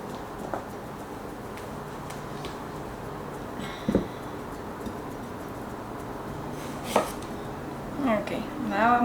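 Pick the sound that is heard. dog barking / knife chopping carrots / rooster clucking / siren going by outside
knife chopping carrots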